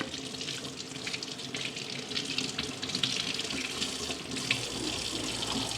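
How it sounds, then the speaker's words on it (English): Tap water runs steadily from a kitchen faucet into a sink as an IP67 waterproof digital instant-read meat thermometer is rinsed under it, a continuous close splashing hiss with no talking. "Easy to clean up. Don't have to worry about getting it wet."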